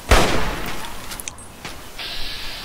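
Gunfire in the video game Fallout 3, a loud burst at the start followed by a few scattered shots and a sustained high hiss toward the end.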